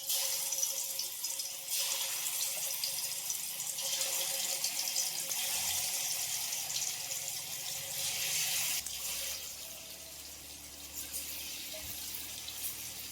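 Fish pieces fry in hot oil over a wood-fired stove, giving a continuous close sizzling hiss that eases slightly partway through and then carries on steadily.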